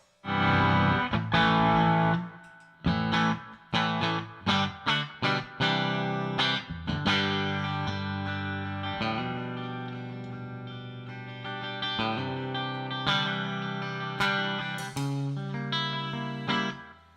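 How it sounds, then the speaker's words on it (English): Electric guitar played live through a Fender Super Reverb amp, with sharp plucked chords and note runs, loud and close, carrying effects and sustain, alone without talking. "I plugged in the super reverb for the heck today."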